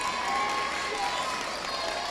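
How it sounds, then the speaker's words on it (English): A graduation crowd applauds a school principal being introduced, a brief burst of dense clapping and cheering that stays loud and even throughout. "Clap."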